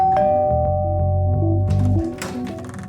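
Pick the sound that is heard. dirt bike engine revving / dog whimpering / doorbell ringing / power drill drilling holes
doorbell ringing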